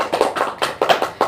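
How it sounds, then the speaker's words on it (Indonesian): A classroom group claps hands during a lesson, about six or seven quick, sharp, close claps in an uneven burst. "tepuk tangan tuh Mufdi"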